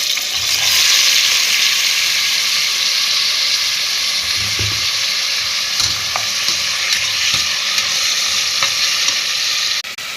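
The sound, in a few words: tomatoes added and frying in a pan with onions and green chillies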